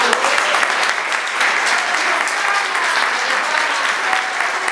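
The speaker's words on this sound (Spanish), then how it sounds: "propongo que la votación sea por aclamación, por aplausos" An assembly at a plenary meeting applauds to approve a vote by acclamation, the dense, sustained clapping of many hands continuing steadily and loudly from start to finish with no break.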